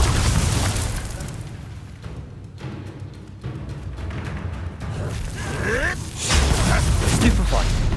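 In Hogwarts Legacy, a Bombarda blasting spell bursts with heavy booms and crumbling rumble amid ongoing combat effects, loud and near, with game voices sounding briefly among the explosions.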